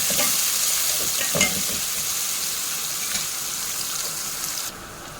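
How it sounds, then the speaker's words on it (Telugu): Onions fry in hot oil for a mutton keema balls curry, a loud, continuous close sizzle with a few stirring knocks early on, no talking. "ఆయిల్ అయితే వేడైంది ఆనియన్ బాగా ఫ్రై చేసుకోవాలి"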